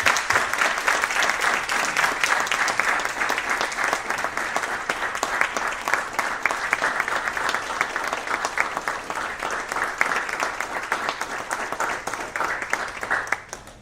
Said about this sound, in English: I'll give him a round of applause.